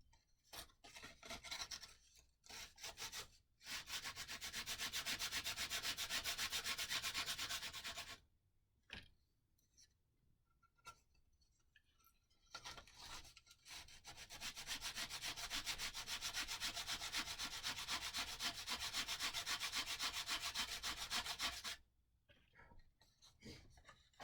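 Sandpaper rubbing wood to take material off the top of a model airplane nose in a workshop, two long steady stretches of rasping strokes separated by brief pauses.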